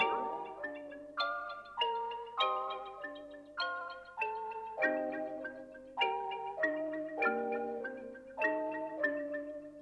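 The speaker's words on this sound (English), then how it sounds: "use these two kalimba sounds and I layered them and they sound like this." Two layered kalimba sounds playing a repeating melodic pattern of plucked, ringing notes at a steady rhythm, soft and close with each note decaying quickly, no voices present.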